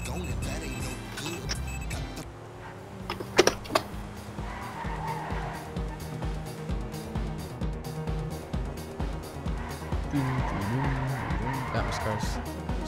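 Cars in the video game GTA 5 skid and slide with tire squeals over revving engines and traffic noise, a busy, continuous game soundscape with a couple of sharp bumps partway through.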